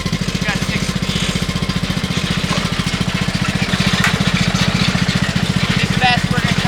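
A modified, cheaply built fast lawn mower with swapped belt and pulley runs close by, its small engine chugging in a steady rapid loud pulse throughout.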